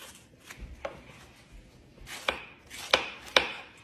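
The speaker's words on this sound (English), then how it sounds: "Scoop out all the seeds." Scraping and scooping the seeds out of a halved bitter melon in a kitchen, a handful of close, sharp scrapes and knocks over a quiet background.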